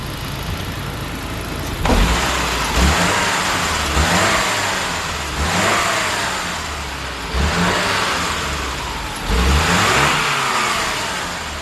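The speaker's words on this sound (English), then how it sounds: "take this car out on a test drive and see how it runs" A Saab 9-5 engine revs and accelerates in repeated surges on a test drive, rising and falling several times, loud and close with no talking.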